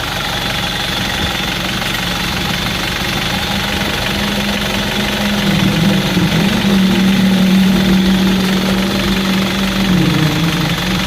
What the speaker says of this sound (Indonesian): Ini halus, ini suara mesinnya halus.